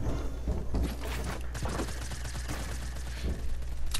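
Rapid shots from an automatic sniper rifle in Fortnite: Battle Royale, a handful of sharp cracks spaced through a dense, loud game soundscape.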